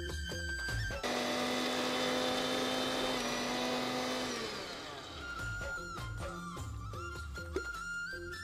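A mixer grinder whirs loudly and steadily as it powders coconut, coriander, cumin, chana dal, sesame and chillies, then winds down, with no talk over the motor.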